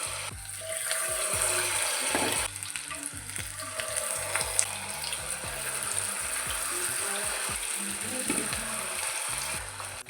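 Onion slices deep-frying crisp in hot oil, a dense, continuous sizzle with stirring clinks and scrapes throughout, close and fairly loud, with no talking.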